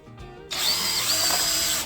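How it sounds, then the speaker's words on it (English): Hammer drill boring holes into concrete to mount a sprinkler controller, starting after a brief quiet moment and then running steadily and loud at close range with a high whining grind. "we're just going to go ahead and drill a couple holes with the hammer drill"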